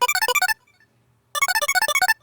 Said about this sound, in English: the other layer is an arpeggiated square arp which without the effects sounds like this